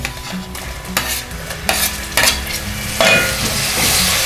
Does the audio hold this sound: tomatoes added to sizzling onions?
yes